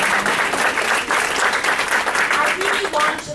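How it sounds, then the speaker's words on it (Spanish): An audience at a book presentation gives a round of applause, a thick, steady wash of clapping that carries on throughout, with some voices mixed in. "Let's give him a round of applause."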